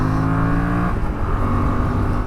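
Yamaha Tracer 7 motorcycle engine accelerating on a faster road, a steady loud engine drone with rising tonal pitch that shifts partway through, as if changing gear, running continuously without speech.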